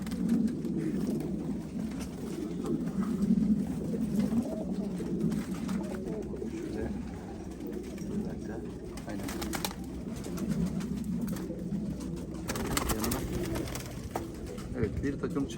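Pigeons coo steadily in a loft, low rolling calls overlapping and pulsing from close by across the whole stretch, with faint other bird sounds mixed in.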